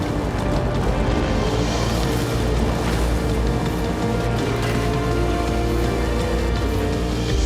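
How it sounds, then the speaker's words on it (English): Heavy rainstorm in Forza Horizon 5 roars as a steady, dense wash of rain over a low rumble, loud and continuous throughout with no talk. "are you sure we should be heading into this storm? A bit of rain is nothing to fear"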